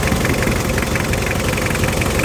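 A Mitsubishi Kuda diesel engine from 2000, GLS trim, idles close to the microphone with a steady, loud, even clatter and no pauses.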